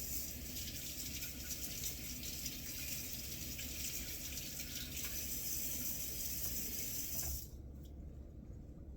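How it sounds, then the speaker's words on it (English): Kitchen tap water runs steadily into a sink as fingers are rinsed, a continuous close gushing hiss that cuts off abruptly near the end. "rinse my fingers off real quick"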